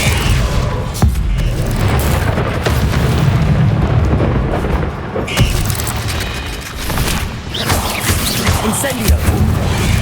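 Fire and blast spells, Incendio and Confringo, go off in Hogwarts Legacy during a fight with spiders: loud, dense rumbling booms and bursts that layer over one another almost without pause from start to finish.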